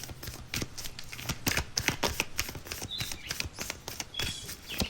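Tarot cards shuffled by hand close up, a dense run of quick riffling snaps and soft slaps in uneven bursts, with no talking.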